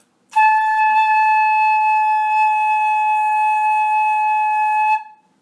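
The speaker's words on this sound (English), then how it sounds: "Grab your head joint only." A single steady, high whistling tone from blowing into a flute head joint alone, held for about four and a half seconds, clear and close, then cut off.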